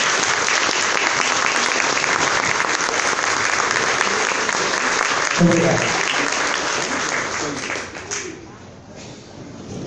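A sustained round of dense, loud applause fills the hall at a Lions Club installation ceremony in Vinhedo, steady for about eight seconds before tapering off, with a brief spoken word near the end.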